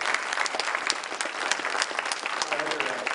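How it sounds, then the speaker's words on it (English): Steady applause from the audience at an entrepreneurial challenge finals event, dense continuous clapping that fills the room for a few seconds with no break. "Let's give them a round of applause"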